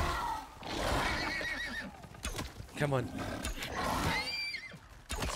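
Horse neighs and whinnies in the video game Icarus, with several high whinnying calls rising over excited talk and a growling creature attack, loud and close.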